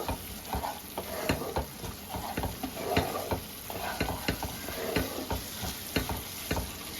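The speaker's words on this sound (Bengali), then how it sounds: "এবার এর মধ্যে একটু গরম মশলার গুঁড়ো দিয়ে দেবো দিয়ে ভালো করে মিক্স করে নেব" Masala being stir-fried in a pan after garam masala powder is added, for egg masala khichuri: steady close sizzling broken by frequent sharp scrapes and clicks of a spatula in an irregular rhythm, with no voices.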